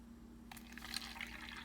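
Warm water pours into a cup for a yeast and sugar experiment: a steady close splashing trickle begins after a brief quiet moment and runs on without a break.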